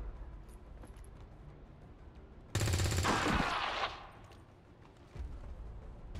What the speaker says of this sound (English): Alright, so we're gonna go ahead and shoot.